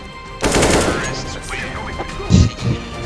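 Gunfire in the video game CS:GO, a loud burst of rapid shots followed by a couple of heavier single bangs, close and sharp over faint game background.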